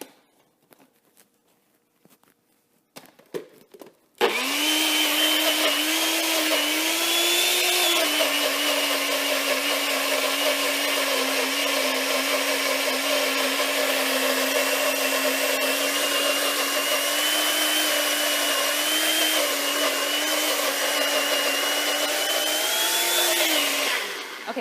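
A NutriBullet blender whirs continuously while mixing chocolate pudding, a loud close motor whine holding a steady pitch with a slight dip early on, starting abruptly after a few quiet clicks and handling noises.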